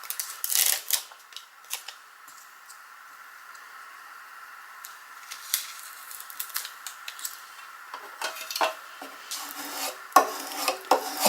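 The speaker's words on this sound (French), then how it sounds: "On fait bien adhérer en marouflant sur le dos et sur le dessus du transfert tape" Transfer tape being rubbed and burnished down onto a craft project, a soft scraping and rubbing texture with faint sporadic taps, growing busier with short scratchy strokes toward the end, close and quiet with no voices.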